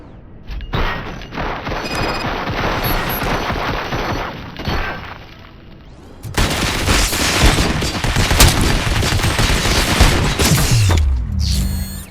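Gunfire in RoboCop: Rogue City, dense bursts of rapid shots and impacts that ease briefly, then return heavier and louder, with booming hits and metallic crashes mixed in.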